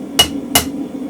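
A hammer gives two sharp ringing taps on a spring fuller holding mild steel on an anvil, spaced about a third of a second apart, close and clear with a faint hum between strikes.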